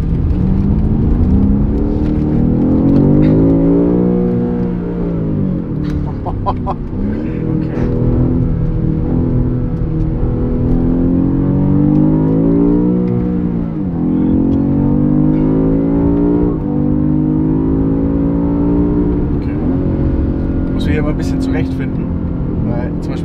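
A BMW M5 CS engine revs and accelerates with a deep, rising exhaust roar, exhaust set to loud, that swells and falls repeatedly; a person laughs briefly near the end.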